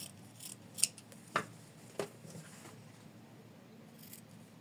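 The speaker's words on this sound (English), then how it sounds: "we'll leave bigger seam allowance when trimming" Scissors snipping through fabric while trimming a seam allowance on a hearts project, a few short, crisp cuts spaced out over a quiet room, fairly close and moderately soft.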